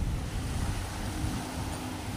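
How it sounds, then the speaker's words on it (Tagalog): Gentle waves lapping along the Manila Bay shoreline, heard as a steady, close broadband wash mixed with wind buffeting the microphone, with no voices. "sinasalpok po tayo ng mayuming alon sa karagatan ng dito ng Manila Bay"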